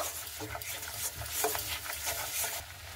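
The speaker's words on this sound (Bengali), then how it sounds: "তো টক দইটাকে দিয়ে খুব ভালো মতো করে একটু নাড়াচাড়া করে নেব" Sour yogurt being stirred into cooking masala in a pan, with rhythmic scraping strokes over a low sizzle, close and steady for a few seconds.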